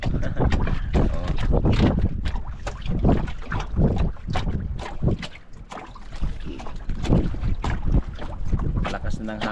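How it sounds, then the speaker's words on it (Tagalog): Strong wind blows at sea in loud, irregular gusts, buffeting the microphone in repeated rough bursts around a small boat on the water. "Malakas na ng hangin"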